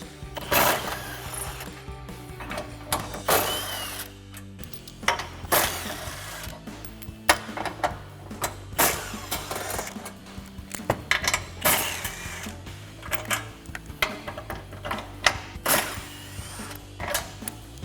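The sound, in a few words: removing fog light bolts with 15mm swivel socket ratchet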